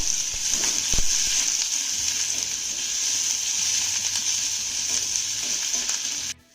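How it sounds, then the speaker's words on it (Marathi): Sliced onion frying in a pan, a steady close sizzle with occasional stirring scrapes that runs continuously and cuts off abruptly at the end. "आता हा कांदा ना आपल्याला चांगल्या तांबूस रंगावरती परतून घ्यायचा आहे."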